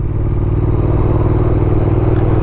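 A Triumph Thruxton R motorcycle is ridden on a road in cold weather around 36 degrees Fahrenheit, its engine droning loud and steady at speed with a constant low rumble and wind noise and no voice.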